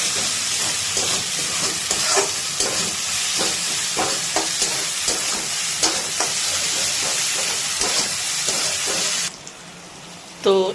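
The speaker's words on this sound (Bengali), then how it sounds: "তো এখানে দেখুন বন্ধুরা এটা কিন্তু ভাজা চলছে এই যে।" Masala with ginger garlic paste fries in a pan for a dhaba-style paneer dish, giving a loud, continuous sizzle with repeated scraping stirs before it drops away near the end.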